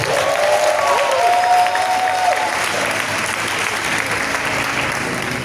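An audience applauding the Virgin Mary at a French-language Catholic prayer gathering, a loud sustained burst of clapping with a faint tonal whistle or voice near the start, then steady applause to the end.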